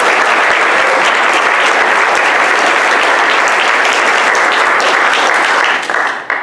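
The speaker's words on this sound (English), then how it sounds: "We'll give another round of applause for the music." A church audience applauds the music at a morning service, steady loud clapping from many hands that fills the room and then begins to taper off at the end.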